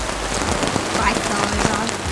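Steady rain patters densely on the canvas of a big top circus tent, a close, continuous spatter of drops with no breaks.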